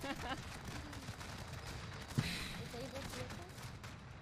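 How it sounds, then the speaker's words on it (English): Rapid overlapping explosions and gunfire-like bursts from cluster strikes in Call of Duty: Warzone, a dense continuous barrage with one sharper blast midway, under a voice talking. "this is just explosions going off now. There's like cluster strikes."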